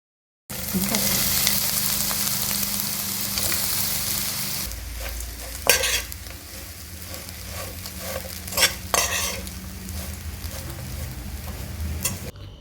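Dry prawn chutney powder frying and being stirred on a low flame after crushed garlic, a steady hiss followed by scattered scraping and spoon taps against the pan.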